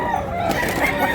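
A white three-year-old rooster crows amid a crowded poultry sale, a sustained wavering call with other fowl clucking around it.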